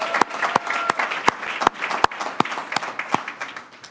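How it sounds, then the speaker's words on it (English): An audience at a business school speaker series applauds, with scattered loud, sharp claps standing out over a softer bed of clapping that thins toward the end. "so we should give him a round of applause."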